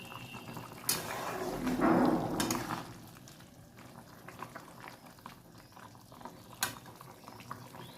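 Potatoes simmer in a pot of boiling water, a soft bubbling burble that swells briefly early on, then settles into a quieter steady simmer with a couple of faint knocks.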